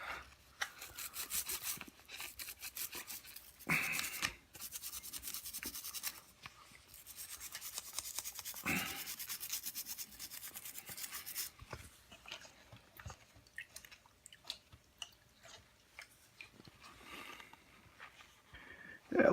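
A painted miniature model being scrubbed with paint remover, giving quiet repeated rasping and rubbing strokes in uneven bursts, close up, with brief pauses between passes.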